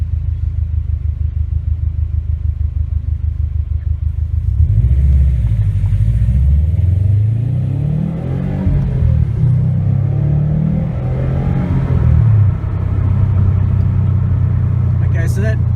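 A 2017 Subaru WRX STI with an Invidia R400 cat-back exhaust pulls through first, second and third gears, its rumble rising and dropping with each shift, heard loud from inside with a window down.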